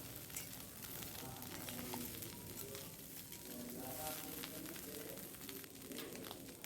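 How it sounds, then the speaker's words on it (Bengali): Mourala fish frying in hot oil in a kadai, a steady moderate sizzle running throughout with faint background sounds and no clear talk. "সেই রকমভাবে ভেজে আমি মাছটাকে নামিয়ে নিচ্ছি"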